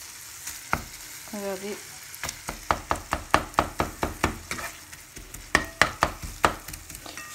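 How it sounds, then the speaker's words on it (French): Minced kebab meat sizzling in a frying pan while a utensil crushes it into crumbs, with sharp repeated scraping and tapping strokes over a steady fry; a voice speaks briefly at the start. "Après, quand c'est un peu cuit, je l'écrase en miettes, toujours en miettes."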